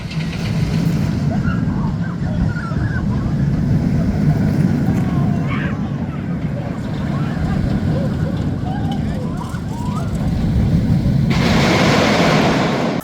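Riding the Wipeout boomerang roller coaster at Pleasurewood Hills: a steady, loud roar of rushing wind and rattling track throughout, with a brief surge in intensity near the end.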